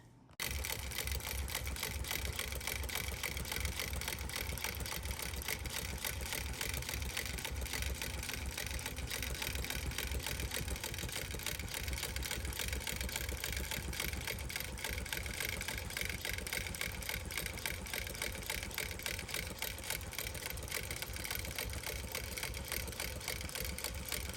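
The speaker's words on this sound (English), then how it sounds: "So now let's get back to stitching." Sewing machine running steadily while stitching binding around the edge of a quilt, a continuous fast mechanical whir and hum that stays loud and even from start to finish with no talk.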